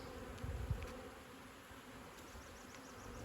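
Honey bees buzzing around a beehive, a continuous faint droning hum with a few bees passing close by, no voices.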